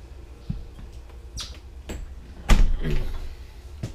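An RV bathroom door being pushed shut, heard as a faint tap, a few light rattles, then a firmer clunk with brief rattling, quiet and close by.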